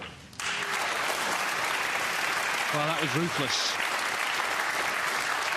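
Snooker crowd at the 2017 English Open bursts into sustained applause for Judd Trump's century break, dense clapping starting abruptly and continuing loudly, with a commentator speaking briefly over it.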